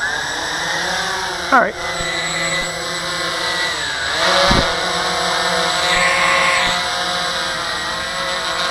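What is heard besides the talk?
Walkera QR-X350 quadcopter drone motors taking off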